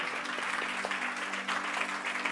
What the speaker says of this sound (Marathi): जरा जोरदार टाळ्या प्रभूच्या गौरवासाठी.